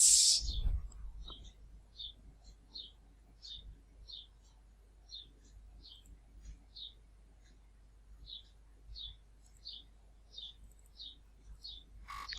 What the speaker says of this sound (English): Ah, that wonderful bird song.